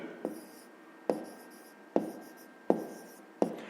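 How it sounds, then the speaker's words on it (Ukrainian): Someone writes by hand while working a fifth-grade maths exercise: five quiet, evenly spaced strokes, each starting with a sharp tap and trailing off into a short scratch. "Записуємо."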